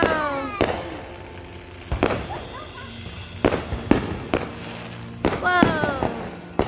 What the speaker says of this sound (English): there's more fireworks for you